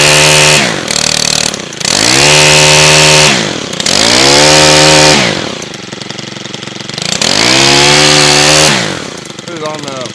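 A Stihl HT 105 gas pole saw engine runs loudly up close, revving up and dropping back to idle in repeated cycles, with no one speaking over it.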